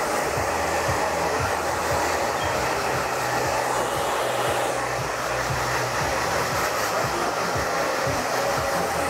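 Hair dryer blowing continuously while drying a man's hair during a haircut, a loud steady close whoosh with no pauses.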